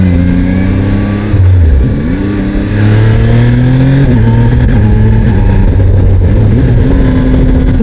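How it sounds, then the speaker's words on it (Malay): A Zontes 703F three-cylinder adventure motorcycle engine revs up and down loudly and close, its pitch rising and falling in smooth sweeps before settling into a steady higher hum. "Smooth engine dia smooth"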